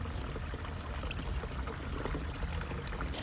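Water rushes continuously through a Flower Gold Wizard cleanup sluice while gold-bearing material from a Lake Superior beach is concentrated, a dense, steady, close pouring wash.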